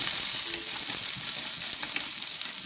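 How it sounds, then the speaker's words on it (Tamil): Chopped small onions (shallots) frying in hot oil with curry leaves for a brinjal peanut thokku, a steady close bright sizzle with faint crackles throughout, no talking. "சின்ன சின்னதாக கட் பண்ணி வச்சுருந்த ஒரு 10 சின்ன வெங்காயம் போட்டுக்கலாம்"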